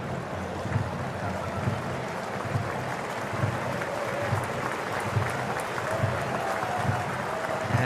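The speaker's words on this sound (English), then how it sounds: "crowd with a smattering of applause to show their appreciation that he's all right" A smattering of applause rises from the stadium crowd at an A-League football match between Newcastle Jets and Wellington Phoenix, blended into a steady wash of distant crowd noise for several seconds.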